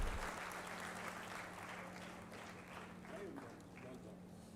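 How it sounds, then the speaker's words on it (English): Audience applause for the chief guest at an AI event in Kakinada, steady clapping at moderate distance throughout, with a constant low hum underneath and faint voices near the end. "A big round of applause, ladies and gentlemen."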